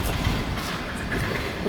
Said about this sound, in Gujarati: આપણે અત્યારે બોટાદ રેલવે સ્ટેશને પહોંચી ગયા છીએ